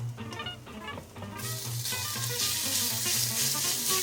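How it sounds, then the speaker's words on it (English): Chicken pieces hit hot garlic oil in a wok with a sudden loud hiss that jumps up partway through, then a steady close sizzle with faint stirring clatter underneath. "That hiss and sizzle right away"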